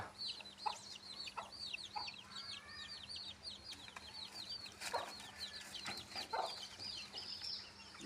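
Native hen with four growing chicks in a village yard, sounding a steady stream of soft repeated clucks and peeps, faint and continuous against a low hum.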